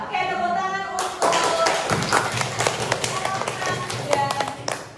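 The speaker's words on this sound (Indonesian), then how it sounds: "Oke, tepuk tangan untuk" A classroom group of teachers in a teacher-training session claps hands together, a burst of brisk rhythmic clapping starting after a second of talk, with voices mixed in.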